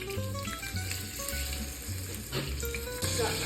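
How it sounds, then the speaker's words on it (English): Steak searing in hot oil in a pan, a loud, dense, steady sizzle close by with a brief surge near the end and no voices. "The next step is to go ahead and put the steak in the pan with the oil"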